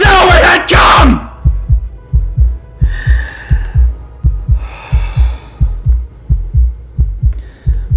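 A heartbeat sound effect from a reading of Poe's The Tell-Tale Heart thumps loudly in a steady, fast double-beat rhythm after an opening yell, with faint breathy bursts drifting over it.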